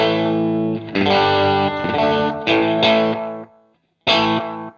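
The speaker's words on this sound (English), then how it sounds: "The beauty of analog delays is that they degenerate, so they're not going to have this pristine bounce, bounce, bounce, bounce, echo, echo, echo" A NUX analog delay guitar effect pedal repeats sustained electric guitar chords, with echoes trailing off and decaying after each strum, loud and alone with no talking.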